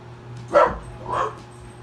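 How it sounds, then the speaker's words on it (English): A dog barks twice, two separate barks about half a second apart. They sound fairly close and stand out against a quiet indoor background with a faint steady hum. "that is my dog."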